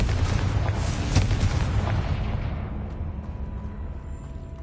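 A Confringo blasting spell explodes in Hogwarts Legacy, a loud booming blast with a broad rumbling burst that fades into a lingering low tail over a few seconds.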